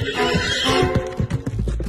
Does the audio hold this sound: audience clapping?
no